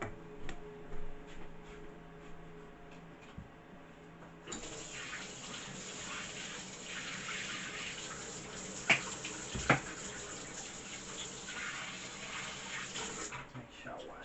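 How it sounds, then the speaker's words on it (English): A water tap runs steadily for about nine seconds while hands are washed beneath it, a soft continuous hiss with a couple of small knocks, set after quiet room sounds and ending abruptly. "Make sure I wash my hands."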